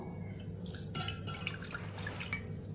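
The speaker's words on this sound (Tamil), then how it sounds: "இதில் ஒரு கிளாஸ் தண்ணி ஊற்றுவோம்." Water trickles and drips steadily into a metal pan, a continuous close splashing with small droplet hits, no voices.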